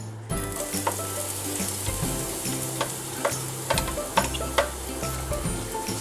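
Chopped onions fry in a teaspoon of oil in a pan for a masala egg sandwich stuffing, with a steady close sizzle and repeated scrapes and clicks of stirring.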